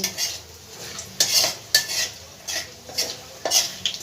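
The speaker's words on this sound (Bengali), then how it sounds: "একটা বড় এলাচ আমি থেতো করে নিয়েছি সেইটা সম্পূর্ণ দিয়ে দিলাম" Crushed black cardamom and ground spices frying in hot oil, with a soft sizzle under repeated scraping strokes of a spoon against the pan, several close bursts in a steady stirring rhythm.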